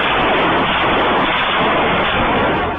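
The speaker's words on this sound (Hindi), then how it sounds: "आधी रात को बरेली की सुनसान गलियां गोलियों की तड़तड़ाहट से गूंज उठी।" Gunfire at night on quiet residential streets in Bareilly, outside a house, heard as a dense, continuous roar of broadband noise that fills the whole short clip with no voices.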